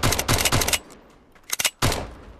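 Gunfire from a gun in the VR game Blade and Sorcery: three loud, sharp shots in quick succession, a pause, a tight cluster of bursts, then one more heavy shot, with no voices.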